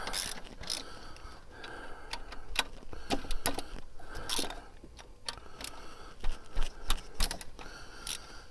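Close-up mechanical clicking as a ratchet wrench breaks loose the alternator bolts on a 2006-2010 Ford Explorer XLT with the 4.0 engine. The clicks come in uneven bursts with short pauses between them.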